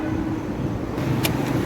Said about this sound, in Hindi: गाड़ी मिसिंग कर रही है।